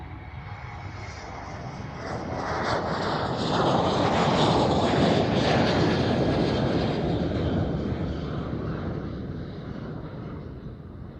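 A SkyTeam Boeing 737 airliner at Amsterdam Schiphol Airport rumbles past, its engine roar swelling from moderate to loud at mid-pass and then easing off gradually.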